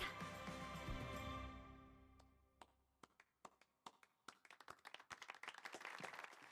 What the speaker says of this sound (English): Just started the slow clap